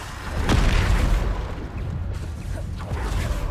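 Bombarda blasting spells explode in Hogwarts Legacy combat, with a loud boom and whoosh near the start, then smaller bursts and rumbling impacts following over a low, continuous din.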